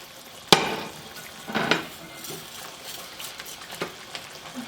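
Dry vermicelli tipped into a pot of boiling syrup for traditional vermicelli pudding, then stirred: a sharp sizzling burst and scraping stirs come through at close range, with a soft bubbling hiss underneath.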